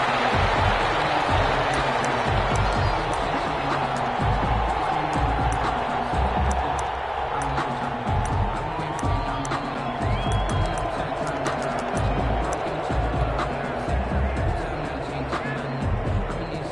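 Steady roar of a stadium crowd in an NFL video game matchup between the Seattle Seahawks and Detroit Lions, a continuous loud wash of cheering and murmur with an announcer-style voice over it.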